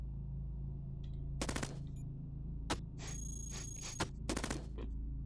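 Short bursts of robotic gunfire in the sci-fi roguelike Cogmind, aimed at the player's wheeled robot, snap out in several sharp clusters over a steady low electronic hum, with no voices.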